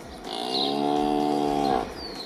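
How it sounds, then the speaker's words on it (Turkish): A cow moos once inside a house, a single loud, drawn-out low call lasting under two seconds. "Arkadaşlar inek ne oldu ya?"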